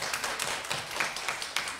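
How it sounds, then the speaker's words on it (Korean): Brief, soft patter of applause from a church congregation, quiet and a little distant. "우리 하나님께 영광의 박수."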